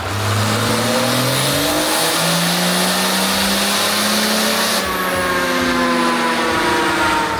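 An engine labours on a chassis dynamometer in direct gear under a small load, roaring loud and close with a steady droning pitch that climbs, drops back briefly, then rises again.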